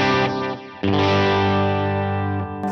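An electric guitar played through a Benson-style preamp setting on a Veritas Mini Master pedal with delay on, loud sustained distorted chords with a brief dip and repeating echo tails.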